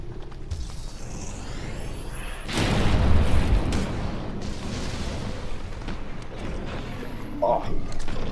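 A gunlance wyvern shot blast in the Monster Hunter video game, erupting as one loud booming burst with a rumbling tail amid steady game noise and a voice talking.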